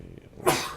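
A single sharp sneeze bursts out midway during a Borderlands 2 game stream, loud and close, trailing off after a quiet lead-in.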